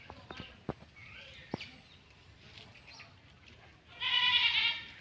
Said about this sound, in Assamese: এইকেইজনী মোৰ ছাগলী